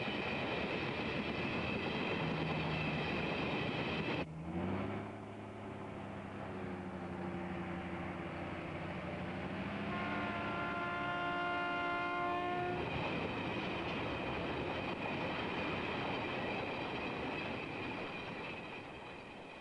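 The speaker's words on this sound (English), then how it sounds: "It carries the heaviest, the richest, and the longest trains in Australia." A long, heavy Hamersley Iron ore train passes on the railway from Mount Tom Price, its horn sounding in sustained blasts over a continuous rumble and clatter of wagons heard at a distance.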